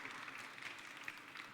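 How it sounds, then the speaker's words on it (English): Audience applause at a game awards show in Cracow, a steady wash of clapping at moderate level, fairly distant and continuous with scattered sharper claps. "Big applause."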